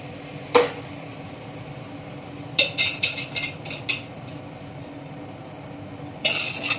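Rice tipped into a pot for one-pot coriander rice rattles and clatters, followed by a run of metallic scrapes and clinks of a spoon stirring it, over a low background hiss.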